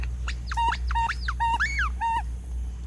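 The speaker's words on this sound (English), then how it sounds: "I stepped on a squeaky" A squeaky dog toy stepped on in a home with a Boston Terrier, giving four or five sharp, rising-and-falling squeals in quick succession, close and clear over a low background hum.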